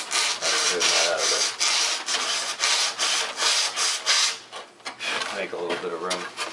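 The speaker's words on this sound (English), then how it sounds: "So I'm just going to take my sanding block and smoothen that out" A sanding block rubs back and forth over wood on a model aircraft rudder stab, a loud close rasping scrub in repeated strokes with a brief pause near the end.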